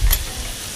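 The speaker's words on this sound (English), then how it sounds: "Gives it a nice crisp sear as well" Steak sears in a pan for steak Diane, a brief close, steady sizzle with a low thump at the start.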